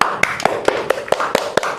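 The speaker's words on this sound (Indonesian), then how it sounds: "tepuk tangan" A class in an Islamic religious education teacher-training lesson claps hands together in a steady, quick rhythm, about eight sharp claps in under two seconds, close by with no talk.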